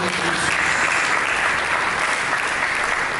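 Continuous loud clapping from a church congregation, a thick, even round of applause filling the whole short stretch without any speech.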